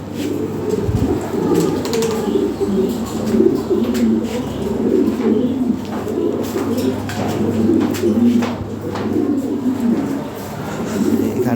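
Lahore pigeons coo in a continuous low, throaty chorus, close and fairly loud, with occasional wing rustles and little else around them.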